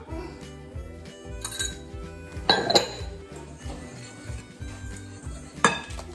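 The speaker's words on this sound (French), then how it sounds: "je vais prendre dans un saladier, je vais mélanger la farine, le sucre" Utensils clink and scrape against a salad bowl while flour and sugar are mixed, with repeated light taps and a few sharper metallic knocks over a continuous musical background, close and moderately loud.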